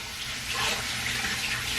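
Warm water runs from a bathroom tap in a steady, close hiss of splashing for the full couple of seconds, with no voices over it.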